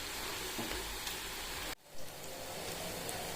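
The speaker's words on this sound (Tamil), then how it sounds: "இப்போ ஆயில் சூடாகிடுச்சு. இப்போ காலிஃப்ளவரை போட்டுக்கலாம்." Cauliflower pieces for cauliflower 65 sizzle steadily in hot oil, a dense crackling hiss that cuts out briefly midway and then returns at full strength, with no one talking.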